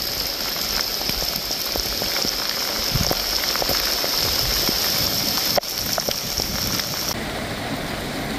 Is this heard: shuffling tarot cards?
no